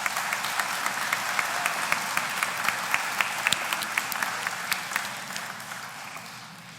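Sustained applause fills a session of the Congress of Peru, a dense steady wash of many hands clapping at an even level, with no talk over it.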